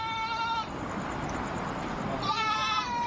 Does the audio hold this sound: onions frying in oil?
no